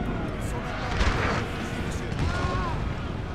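Heavy booms of cannon fire thud in quick succession on a hillside amid a noisy battle din in Napoleon: Total War, with a voice faintly present underneath.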